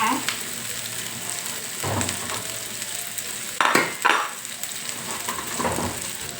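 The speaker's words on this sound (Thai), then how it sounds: "ผัดพริกแกงให้หอม" Red curry paste stir-fried in a pan, a steady low sizzle with a few scraping spatula strokes and clacks against the metal, fairly close, no talking.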